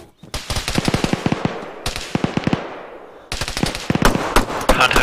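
Gunshots in Arma 3 at a compound, sharp loud bursts of rapid automatic fire in three clusters separated by brief pauses, crisp and close with echoing tails.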